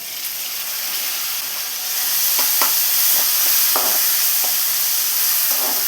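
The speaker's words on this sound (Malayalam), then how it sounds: "ഇനി ഇതിലോട്ട് ഒരു തക്കാളി ചെറുതാക്കി കട്ട് ചെയ്ത് വെച്ചതാണ്. അതും കൂടെ ചേർത്ത് കൊടുത്ത് നന്നായി ഒന്ന് വഴറ്റിയെടുക്കണം." Chopped tomato sautéing in a pan for drumstick-leaf dal curry, giving a steady close sizzle and hiss broken by a few soft stirring scrapes, with no voices.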